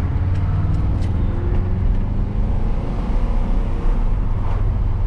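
A car's 4.6-litre V8 with stock exhaust rumbles steadily and loudly close by, a deep continuous drone with some wind buffeting on the microphone.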